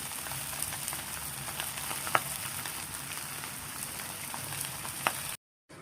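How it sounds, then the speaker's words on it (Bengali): A continuous sizzle of food frying in a pan, broken by a couple of sharp pops, then an abrupt cut to silence. "ভাজা ভাজা করবো এটারে একটু"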